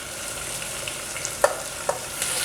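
Curry leaves, green chillies, onion, carrot and potato stirred in a hot pan for vegetable ghee khichdi, with a steady soft sizzle and a few scraping clicks of the spoon, no voices.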